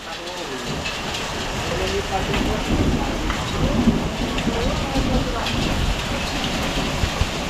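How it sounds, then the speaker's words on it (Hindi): Heavy rain mixed with hail pours steadily in Uttarakhand, a thick hiss of drops hammering surfaces with occasional sharper impacts, loud and close throughout. "ये होती है बारिश।"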